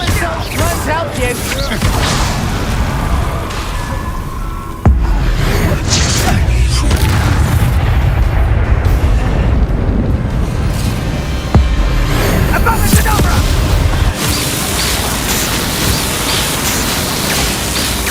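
Incendio fire spell blasting in the video game Hogwarts Legacy, loud roaring bursts and booms layered over dense combat noise and effects, with occasional sharp impacts, nearly continuous.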